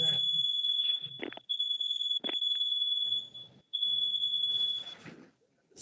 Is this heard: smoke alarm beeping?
yes